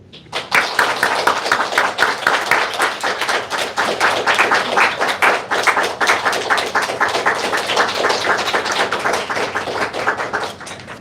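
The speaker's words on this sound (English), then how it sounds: "Let me give one more time a round of applause for the brave man, Mr. Xi." Loud, dense audience applause in a Washington, D.C. event hall, sustained and even for about ten seconds before tapering off abruptly, with no voices over it.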